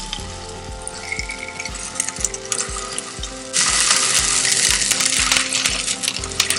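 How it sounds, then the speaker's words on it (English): Snapper fillets hit a hot pan and break into a loud, steady sizzle partway through. Before that come regular mechanical ticking clicks, and no one speaks. "Right when you put the fish in the pan, it's going to curl up on you."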